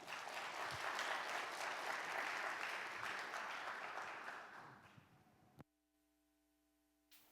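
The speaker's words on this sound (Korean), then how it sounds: "따뜻한 환영 박수로 환영할까요?" Church congregation applauding warmly during a Sunday morning university church service to welcome a speaker to the front; steady, full applause for about five seconds that fades out, followed by near silence.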